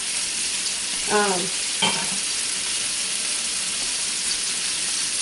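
An onion-mashed raw beef patty sizzles steadily on a griddle at about 200 degrees for Oklahoma fried onion burgers, a constant close frying hiss broken by a couple of brief scrapes.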